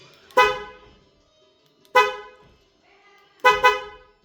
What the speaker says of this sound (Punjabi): ਆਪਾਂ ਜਿਹੜਾ ਹਾਰਨ ਲਾਇਆ ਜੀ ਦੇਖੋ ਮੈਂ ਹੁਣ ਗੱਡੀ ਲੌਕ ਕਰਤੀ